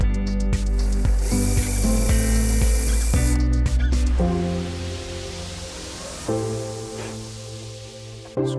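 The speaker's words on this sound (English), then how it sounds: "Drill a hole." Power drill boring a hole to mount a bracket for a surface-installed LEDconnect: a loud, steady whine for about four seconds, then lower, intermittent motor bursts as it winds down.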